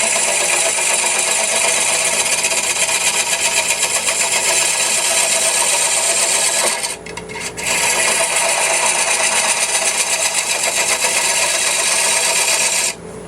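Wood lathe spinning a mahogany platter blank, a loud steady whirring rasp that runs continuously, breaks off briefly in the middle, then resumes; no talking.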